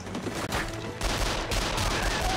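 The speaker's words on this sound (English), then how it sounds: "This is mostly just Rambo with a giant gun in one spot." Sustained heavy machine gun fire from the 2008 film Rambo, a dense continuous roar of rapid shots that stays loud and unbroken throughout.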